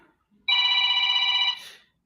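A mobile phone left behind at home rings with a single loud, sustained electronic tone lasting about a second before trailing off, with no one talking.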